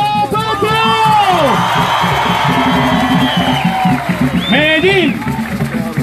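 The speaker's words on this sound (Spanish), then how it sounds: "fuerte el aplauso para Gustavo Petro." Rally crowd in Medellín, Colombia, applauding and cheering for presidential candidate Gustavo Petro, a dense loud roar of clapping and shouts lasting throughout, with a voice talking and calling over the noise.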